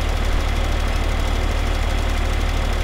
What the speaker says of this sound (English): But if you ride along with this tractor